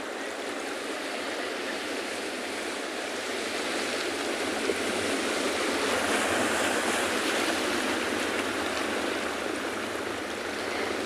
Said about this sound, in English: Lovely crashing of the waves, and I'm sure that you can hear